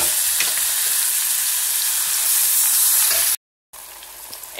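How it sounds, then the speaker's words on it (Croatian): Minced meat and onion frying in hot oil for a moussaka, giving a steady, loud broadband sizzle that runs on unbroken, with a brief gap of silence near the end before the sizzle comes back. "Sad nam se meso ukrčilo zajedno sa lukom"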